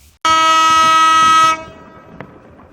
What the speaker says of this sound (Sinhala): ඕන්න කෝච්චිය බෙලියත්තෙන් පිටත් වුණා